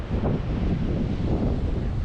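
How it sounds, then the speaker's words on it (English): Steady wind buffets the microphone with a low roar, and the wash of surf rumbles underneath. No one speaks. "These waves are just the craziest waves that I've seen."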